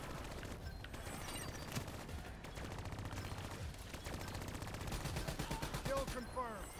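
Automatic and rapid gunfire in the Call of Duty Black Ops 3 video game, dense and continuous over a game soundtrack, with a voice talking over it.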